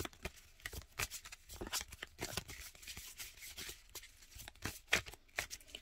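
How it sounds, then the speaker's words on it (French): Oracle cards from a nature-themed deck being shuffled by hand, a quick run of papery riffles and slaps with short pauses between bursts, close and fairly quiet, with no talking. "Alors, je remue les cartes."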